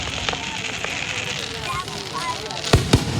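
Fireworks burst during a display amid a steady crackling wash, with two sharp, loud pops near the end standing out from the background noise.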